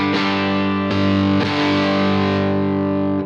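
Electric guitar played through a UAFX Lion '68 Super Lead amp with fuzz, several loud distorted chords struck and left to ring out, with a thick sustain that cuts off near the end.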